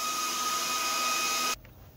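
A VEVOR high-pressure air compressor used for filling paintball air tanks, running with a loud steady whine and hum that cuts off abruptly near the end, leaving quiet room noise.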